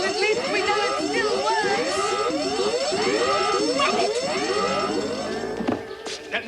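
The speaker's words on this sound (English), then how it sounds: "That must be the palace alarm." A palace alarm rings in a cartoon with a loud, steadily repeating warbling tone that rises over and over for several seconds and then stops abruptly.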